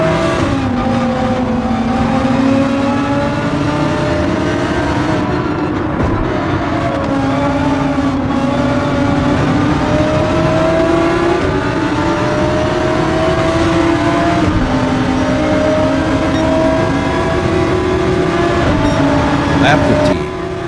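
Race car engines drone continuously in the Gran Turismo 7 driving game during a World Series Nations Cup race, a steady revving whine rising and falling through gear changes for the whole stretch, with commentary talk over it.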